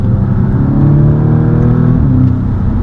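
An Audi S3 launches hard under launch control, its engine roaring loud and close as revs climb steadily through second gear in a continuous pull with no break.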